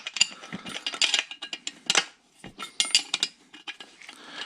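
Bolts being snugged up with a ratchet wrench on a truck frame during a Dakota frame swap on a 1952 Studebaker 2R5 truck, with rapid metallic ratcheting clicks in irregular bursts and short pauses, close and fairly loud.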